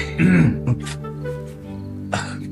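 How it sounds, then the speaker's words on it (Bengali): A man clears his throat and gives a short cough, one brief burst of rough sounds up close, with a quieter second clearing near the end. "কাশি হয়েছে নাকি?"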